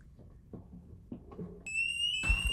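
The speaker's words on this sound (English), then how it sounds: "Is that a fire alarm?" A fire alarm suddenly starts sounding partway through, a loud, steady, piercing electronic tone that cuts over quiet low room noise.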